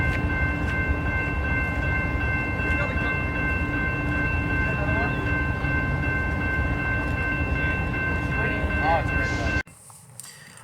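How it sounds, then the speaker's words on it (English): A train at a rural Illinois railfan spot, a steady loud rumble with sustained horn-like tones and faint clanking as it gets moving, continuing for most of the stretch before cutting off abruptly near the end. "this is the part where the train starts to move"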